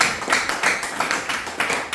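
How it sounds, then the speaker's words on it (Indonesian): Classroom clapping by students, near and fairly loud, in uneven bursts of hand claps with a quick, slightly ragged rhythm. "Beri tepuk tangan."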